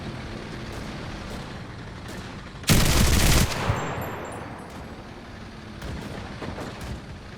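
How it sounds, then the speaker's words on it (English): In the video game Enlisted, a heavy machine gun fires one loud, dense burst of rapid rattling shots lasting under a second, set against steady battlefield rumble and faint distant thuds. "Hey, nice HMG you got there."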